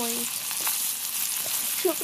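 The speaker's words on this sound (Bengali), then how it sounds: "এবার ওই তেলের মধ্যে দিয়ে দিতে হবে জিরা ও শুকনো" Steady oil sizzle and crackle of cumin and dried chillies frying in a pan, with faint stirring scrapes, no talking.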